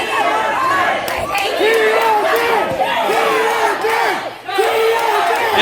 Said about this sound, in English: And the crowd going, they are electric